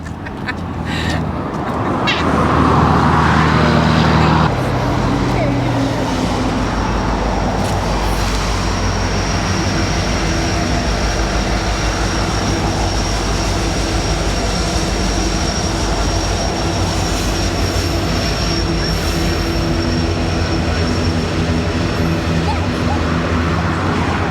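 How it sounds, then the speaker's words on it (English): A heavy, continuous low rumble of a long, empty freight train from an iron ore operation rolling steadily close by underneath, droning on for the whole stretch after a brief louder start. "There's going to be a train that's going to go right underneath us down here."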